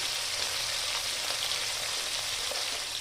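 Steady, dense sizzling of tangra fish frying in hot oil in a wok, a continuous crackling hiss with no talking.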